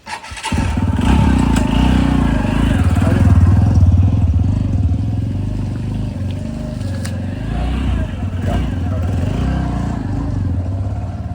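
A motorcycle with a suspected clutch plate fault kicks into life and runs with a loud, close, steady engine throb that stays constant for several seconds.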